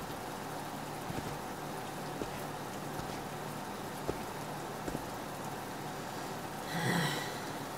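Steady rain falls outdoors in The Walking Dead: Michonne game scene, a constant soft hiss with a few faint drop ticks and a brief louder gust or splash near the end; no one speaks.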